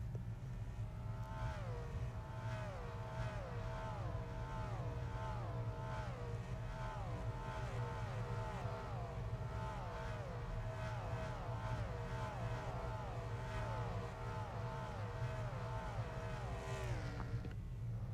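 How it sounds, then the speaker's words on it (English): Race car engines in a racing video game roar past one after another, their pitch rising and falling in repeated sweeping flybys over a steady low rumble, loud and continuous without talk. "That right there was a beautiful flyby."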